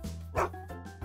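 A golden retriever puppy gives a short, close fuss of high yips and barks, two or three quick sounds over about a second, with no talk.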